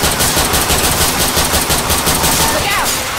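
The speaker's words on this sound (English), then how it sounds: "Can we stop shooting each other?" Rapid continuous gunfire in the video game Left 4 Dead 2, loud dense automatic shooting with a voice speaking briefly near the end.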